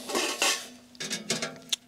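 Metal side grills on a hot tent stove are handled, giving a few short, close metallic clanks and rattles separated by brief pauses, with no talking.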